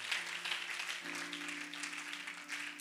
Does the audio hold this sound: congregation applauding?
yes